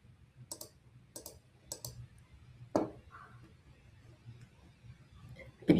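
A computer mouse clicks a few times on a brokerage dashboard, sharp isolated taps spaced about half a second apart, then a louder click after a pause, close by in a quiet room with faint background hum.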